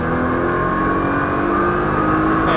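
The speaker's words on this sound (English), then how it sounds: "Now roll into that throttle out, full throttle out" A Nissan GT-R engine revs hard at full throttle on city streets, a loud, steady, close-up roar with rising engine tone and no speech.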